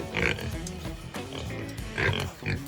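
Pigs grunt and oink close by as fodder is put out for them, the snorts coming in short bursts with a person speaking faintly in between.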